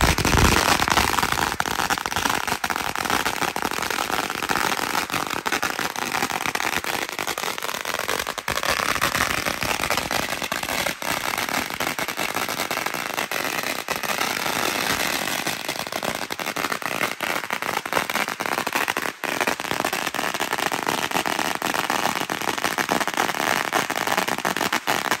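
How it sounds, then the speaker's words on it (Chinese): A string of Chinese New Year firecrackers goes off in a long, continuous burst of dense crackling and sharp pops. The bangs are fairly loud and rapid, with no voices over them. "很久很久没有自己放鞭炮了"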